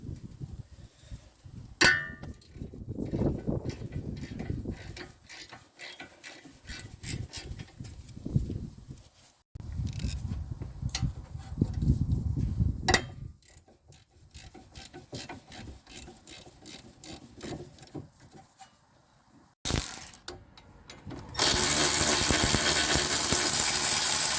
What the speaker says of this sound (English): To remove the two 17 millimeter bolts that is holding the caliper bracket.